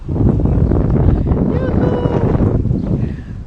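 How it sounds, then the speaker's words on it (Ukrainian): Gusty wind buffets the microphone with a dense, low rumble that stays strong throughout, briefly broken by faint whistling tones. "Ого, і ще й вітер додався."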